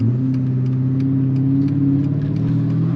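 A turbocharged 800 WHP Dodge Challenger SRT8 engine drones steadily up close, its low hum rising slightly in pitch as it pulls harder, with a faint whir over the top.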